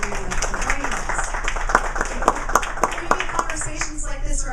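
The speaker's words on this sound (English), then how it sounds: "A big round of applause for the three of them for joining us." Audience at a Bend town hall parks and recreation candidate forum claps for three candidates, a steady patter of many hands with a few sharper claps, fading toward the end.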